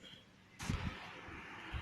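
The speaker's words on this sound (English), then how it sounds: "sorry about the noise that the fan will be keeping" An electric fan's broadband whooshing hum switches on partway through and continues steadily, with faint low thumps underneath; quiet overall.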